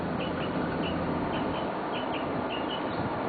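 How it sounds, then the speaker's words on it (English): Birds sing faintly in a quiet neighborhood, short chirps and whistled phrases repeating at a distance over a steady low background hum. "you can actually hear the birds singing"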